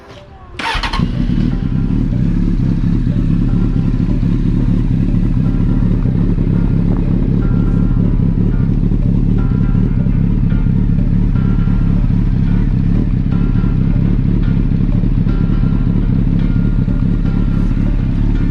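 A motorcycle fitted with an aftermarket muffler starts with a sharp burst, then idles steadily while warming up, a loud, close, continuous low rumble with no revving.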